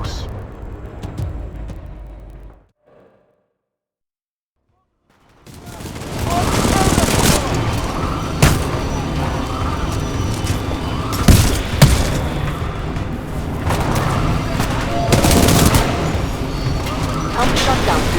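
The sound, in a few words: gunfire from video game Titanfall 2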